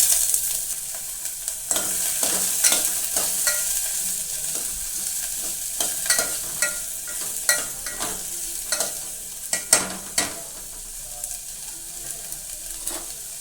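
Onion sizzles steadily in hot oil in a pan for Konkani home cooking, with scraping stir strokes and clicks of a spoon against the pan breaking through the continuous frying hiss.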